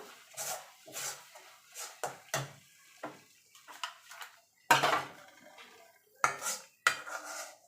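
Cooked sandesh mixture of sweetened chhena being scraped off a kadai, a series of separate metallic scrapes and clanks of spoon against pan with quiet gaps between, close by, no talk.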